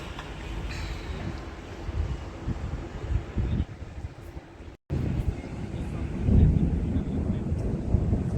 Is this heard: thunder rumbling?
yes